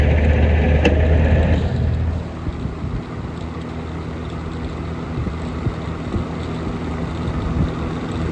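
A vintage Evenflow 2302 box fan runs on high speed with a steady, loud airy whoosh and a low hum, and the tone shifts slightly after the first two seconds.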